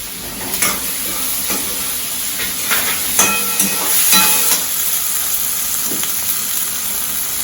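Chopped onions sauté in hot oil for tomato chutney, sizzling and hissing steadily up close, with a few soft scrapes and stirs from a spoon in the pan.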